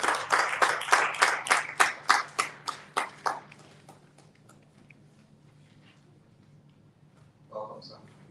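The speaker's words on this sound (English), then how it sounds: "Can you please give him a round of applause as he comes up?" Audience applause for a guest coming up to speak at an educational conference, a burst of steady clapping that fades out over about four seconds, followed by quiet room tone and a brief voice near the end.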